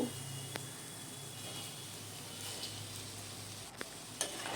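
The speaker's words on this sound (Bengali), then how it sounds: "এবারে আমরা এর মধ্যে ভেজে রাখা আলুগুলো দিয়ে দেব" Fried potato pieces stirred into sizzling spices in a pan for aloo katli make a steady crackling sizzle close by, with a few sharp clicks of a spoon against the pan.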